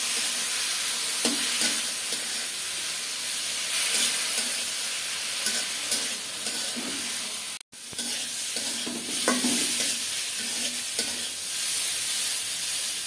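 Turmeric, chili and grated tomato fry in a pan, giving a steady close sizzle and hiss with occasional stirring scrapes, and no talk.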